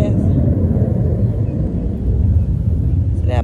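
A low, continuous rumble of low-flying jet aircraft overhead near a fishing tournament, loud and steady for several seconds with no talk over it.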